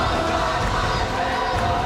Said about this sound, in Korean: 성회에 모인 4만 명의 성도들은 승리의 함성을 외치듯 소리 높여 찬양합니다.